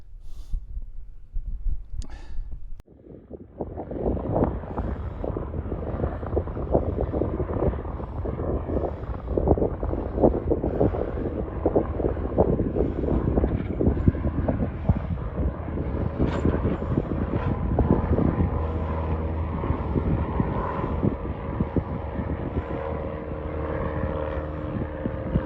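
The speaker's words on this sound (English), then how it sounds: "Seems to be a little airfield, so I could hear a plane, and now it's just sort of popped into view, taxiing." A small propeller plane taxis at a little country airfield, its steady engine drone holding moderately loud and continuous throughout after a brief quieter start.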